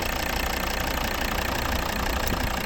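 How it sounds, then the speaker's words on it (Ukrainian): A 2013 Volvo V60 R-Design 2.4 D5 AWD diesel idles steadily and close up, with a constant rough rumble and faint knocking texture running unbroken throughout. "Ось робота двигуна."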